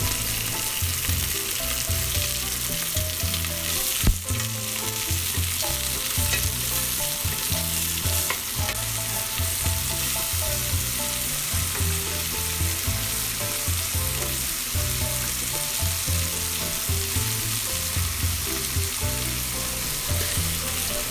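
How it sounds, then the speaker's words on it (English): Lamb sizzles and sears steadily in a hot pan, a constant crackling hiss with occasional louder pops, close up and without talk. "I've left the sound on so you can hear the sizzle and searing that we want to hear happening"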